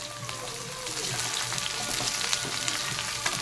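Capsicum frying in oil in a pan gives a steady close sizzle with faint crackles running throughout, with no voices over it.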